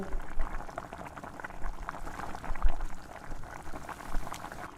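Lightly browned potato balls deep-fry in oil, giving a soft, continuous bubbling and fizzing with small uneven swells. The frying is fairly faint and steady.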